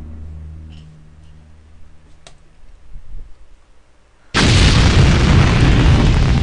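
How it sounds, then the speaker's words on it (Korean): A nuclear missile launching in the strategy game SuperPower 2: quiet ticks and faint clicks, then a sudden loud, sustained roaring blast that holds to the end. "핵미사일이 발사되었습니다."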